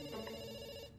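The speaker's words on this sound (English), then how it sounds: "we pick up the phone because it's ringing" A telephone rings with a short burst of steady, bell-like tones that hold evenly for about a second and then cut off.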